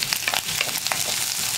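Sliced onion and slit green chilli sauté in a pan for a cabbage and drumstick-leaf thoran, giving a brief, steady sizzle and faint stirring at moderate volume.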